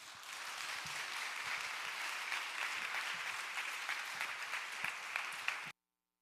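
A church audience at a youth revival prayer meeting claps warmly to welcome a missionary to the stage, dense steady applause that carries on for several seconds before stopping abruptly.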